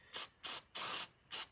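Starting fluid sprays from an aerosol can onto a carbon-caked Hummer throttle body in four short, close, loud hissing bursts with brief pauses between them.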